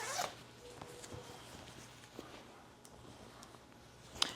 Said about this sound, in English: Has the zipper.